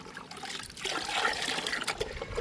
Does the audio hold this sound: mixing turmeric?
yes